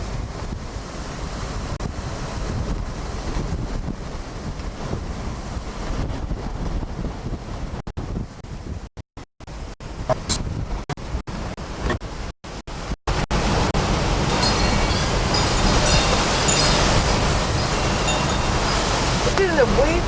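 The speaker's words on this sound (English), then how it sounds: "Look at the waves over there." Ocean waves crash and roll near Key West during a storm, a loud continuous roar mixed with heavy wind buffeting the microphone, briefly cutting out in the middle before surging back stronger.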